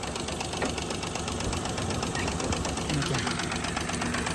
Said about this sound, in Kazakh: Мотор иштеш угулуп аткан болсо, билет, мотор түшүнгөндөр билет.